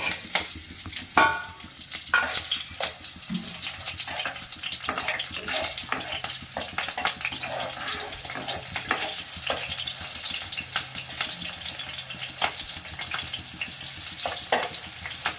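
Cut green chillies fry in a spoonful or two of hot oil on a gas stove, giving a steady broadband sizzle with scattered crackles and spoon-stirring scrapes, close and continuous throughout.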